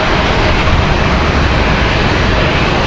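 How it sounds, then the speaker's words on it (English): An American Airlines Airbus A319 arriving at Raleigh-Durham airport, its engines a loud, steady broadband roar that fills the whole moment without pause or voices. "we've got another American Airlines arrival here."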